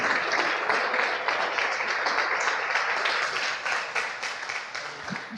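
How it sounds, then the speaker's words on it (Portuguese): A church congregation stands and applauds, giving dense, steady clapping that carries for several seconds, then thins slightly near the end. "Vamos ficar de pé e aplaudir o Senhor?"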